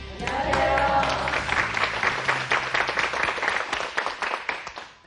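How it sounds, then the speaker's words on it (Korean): Applause from a classroom audience of students, a dense patter of clapping that stays fairly loud for several seconds before tapering off, with some voices mixed in. "박수 너무 작은 것 같네요."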